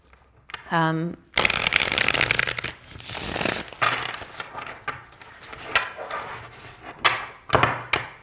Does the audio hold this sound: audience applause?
no